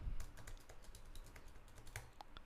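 Keys clatter steadily on an Apple Magic Keyboard paired with a MacBook, a close run of light, quick taps with small uneven gaps and no voices.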